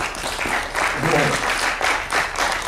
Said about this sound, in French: je crois qu'on peut même les applaudir quand même